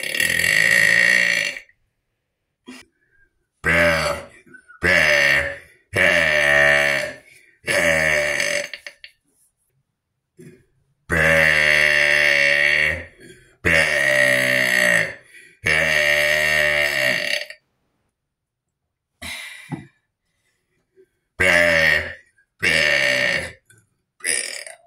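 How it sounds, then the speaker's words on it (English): Loud, close burps come one after another in a long series of drawn-out belches separated by short silent gaps, with no talking. "let's get into the burps"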